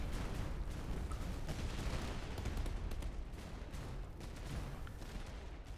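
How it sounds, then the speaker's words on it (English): Cannon fire from the Napoleonic-era strategy game Master of Command, a dense, continuous barrage of booming shots rolling together as battle noise, loud and sustained without a break. "Look at all them cannonball shots."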